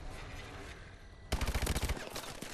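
Gunfire in the video game Call of Duty: after a quiet stretch, a rapid burst of automatic shots rings out loud and close, a dense rattling string lasting under a second before tapering.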